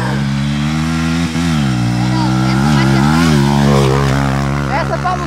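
A Honda XR 200 motorcycle engine drones loudly and steadily as it climbs a hill, its pitch rising and falling as it labors; voices can be heard over the engine.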